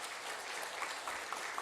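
A church congregation claps in encouragement during a Sunday morning service, a soft, steady patter of many hands lasting under two seconds with no voices over it.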